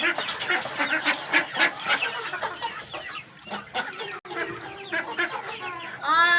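A female duck among chickens and geese gives loud, rapid, close quacks and honks in a busy, continuous run with no real pause.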